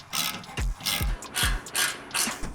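A ratchet works on exhaust bolts under a Porsche 944, giving five or six quick rhythmic bursts of clicking pawl strokes, close and clear with brief pauses between pulls.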